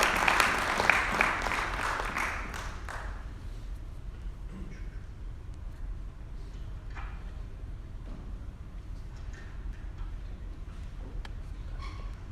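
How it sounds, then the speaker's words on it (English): An indoor event audience gives a burst of applause that is dense and loud for about three seconds, then thins out into scattered claps and quiet room murmur. "Please give a big round of applause to Mr."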